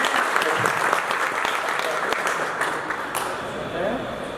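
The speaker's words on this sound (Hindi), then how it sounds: "सभी एक बार जोरदार ताली दें" Dense, steady applause from an audience fills the whole stretch, a continuous wash of many hands clapping at once.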